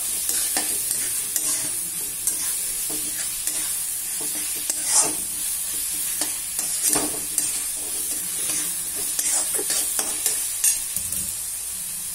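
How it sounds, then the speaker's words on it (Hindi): Chopped onions fry in hot oil in a pan for an Indian masala, a steady sizzle broken by repeated scraping strokes of a spoon stirring them, close and fairly loud with no talking. "प्याज को बहुत अच्छे से भूनना है।"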